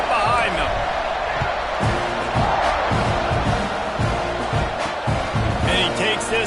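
A stadium crowd roars in EA College Football 26 during a Texas A&M versus Missouri State game, a steady dense wash of cheering with an announcer talking over it.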